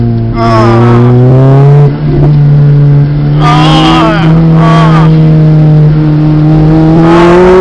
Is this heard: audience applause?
no